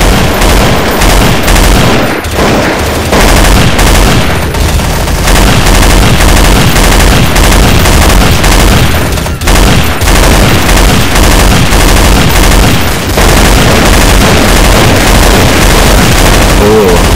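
Sustained, loud gunfire from Counter Strike Source zombie mod gameplay, rapid automatic bursts running continuously with dense overlapping shots and a brief pause midway.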